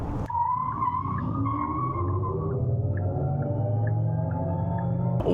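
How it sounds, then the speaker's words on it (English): A 2026 Genesis Electrified GV70 accelerates hard in sport mode, its electric motor whine climbing steadily in pitch over several seconds, with a faint tire squeal near the start and no voices. "hitting on the accelerator"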